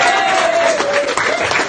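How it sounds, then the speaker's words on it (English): Live stage-show audience in Brighton breaks into applause and cheering, a dense steady clapping across the whole short burst with crowd voices mixed in and a faint sustained tone running underneath. "Give them a round of applause."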